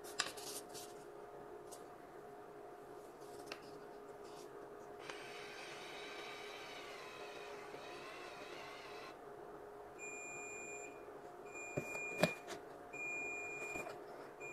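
Several thin, high electronic beeps from a hair curler sound in short bursts over quiet background noise, starting with a sustained tonal tone then repeated chirps near the end.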